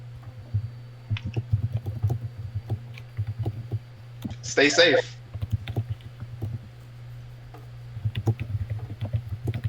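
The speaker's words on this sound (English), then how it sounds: "We can hear you typing" Steady, rapid keyboard typing clicks continue throughout, with a brief spoken phrase in the middle and a low background hum.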